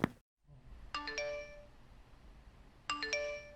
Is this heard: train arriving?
no